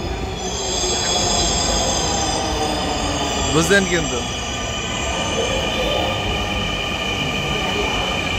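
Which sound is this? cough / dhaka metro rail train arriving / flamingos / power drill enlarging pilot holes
dhaka metro rail train arriving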